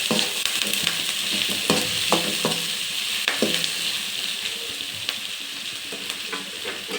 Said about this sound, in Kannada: ಇವಾಗ ಹಸಿರು ಮೆಣಸಿನ್ಕಾಯಿ ಹಾಕ್ತಾಯಿದ್ದೀನಿ. ಅದು ಚೆನ್ನಾಗಿ ಎಣ್ಣೆಯಲ್ಲೇ ರೋಸ್ಟ್ ಆಗಲಿ